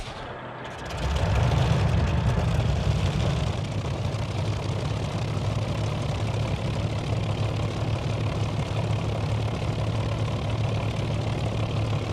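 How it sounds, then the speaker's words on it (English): Hawker Typhoon Mk.Ib piston engine in a flight simulator game, catching after a brief start sequence and then settling into a loud, steady, deep idling rumble that holds evenly throughout. "Then we can press E and that'll initiate the engine start sequence."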